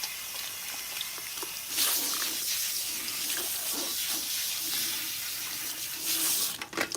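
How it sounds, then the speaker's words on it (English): Shower water runs steadily while hair product is rinsed out of a client's hair at a salon wash, a continuous hissing spray with slight shifts in intensity and no talking. "Rinse out as much residual product as you can"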